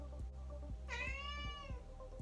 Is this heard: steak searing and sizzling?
no